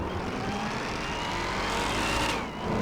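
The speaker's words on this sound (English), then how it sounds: "now let's give it a couple revs." A Dodge Challenger muscle-car engine revs in GTA 5 with a custom engine sound mod, a loud, continuous, throaty roar that swells toward the end before dipping briefly.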